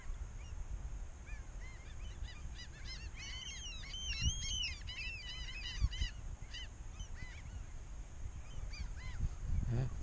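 A large flock of geese honks continuously with many overlapping calls, with other fowl mixed in, amid a steady outdoor background, building slightly louder in the middle and near the end.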